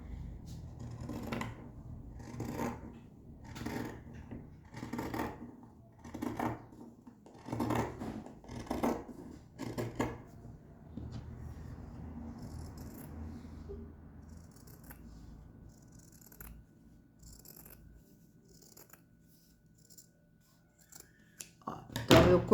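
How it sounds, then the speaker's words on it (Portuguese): Scissors snip through the firmer hem of a cotton dish towel in a rhythmic series of close, crisp cuts, then fall quiet before a final clatter. "Sabe esse barrado mais firme aqui do pano de prato? A gente vai cortar."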